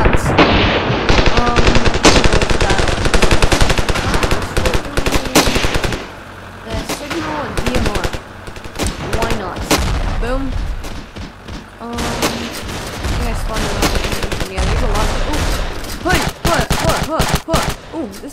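Dense, loud gunfire in the shooter game Ravenfield, with rapid automatic bursts and booming shots that keep going almost without a break, layered with more distant firing and explosions.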